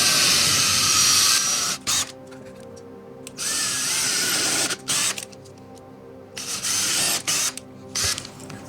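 A power drill bores into a stair wall at a TV mount spot, in loud whirring bursts that start and stop repeatedly with short pauses between runs, close and alone with no talk.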